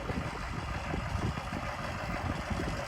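An old tractor, around 50 years old, idles and putters steadily out on a farm field, a constant low mechanical rumble mixed with broad noise, sounding moderately distant with no talking over it.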